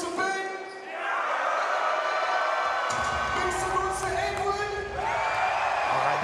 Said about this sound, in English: Make some noise for Edward.